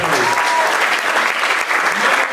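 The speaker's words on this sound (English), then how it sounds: "let's give them a huge round of applause." Applause from the audience at a junior club awards ceremony fills the room as the Under-13s squad is called up: a thick, continuous wash of many hands clapping at once, loud and sustained throughout.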